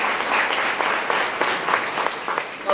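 An audience at a university lecture by a psychologist claps together, a dense burst of steady applause lasting a few seconds, close and fairly loud, easing slightly at the end.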